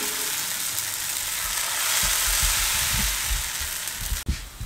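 A roti sizzling on a greased pan for an egg roll: a constant, close frying hiss with light clatter and a few soft knocks toward the end.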